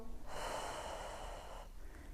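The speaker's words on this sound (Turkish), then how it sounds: "Al nefes, ver." A pregnant woman takes one long, audible inhale through the nose during a gentle exercise routine, a breathy rush lasting over a second against a quiet room.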